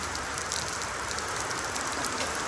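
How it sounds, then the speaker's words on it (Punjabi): Heavy rain pours at night in a steady, dense hiss with no break, the downpour close by and drumming on surfaces throughout. "ਅਰੇ ਪੈ ਰਹੀ ਹੈ ਬਰਸਾਤ"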